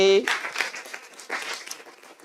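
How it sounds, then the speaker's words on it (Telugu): Audience applause at a Christian sermon on the Song of Solomon: a burst of clapping follows a brief tone and fills the short stretch with a dense, steady patter before thinning slightly. "గట్టిగా చప్పట్లు కొట్టండి"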